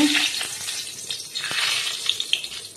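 Bay leaf dropped into hot oil for tempering, sending up a loud, steady crackling sizzle that carries through the whole stretch, with a few brief pops and clicks near the end.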